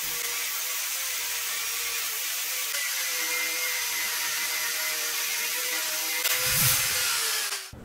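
A power tool, likely a grinder, cuts a 1.5 by 1.5 centimetre steel piece for a metal bending jig. It gives a steady, loud, high whine that runs for the whole stretch and swells near the end.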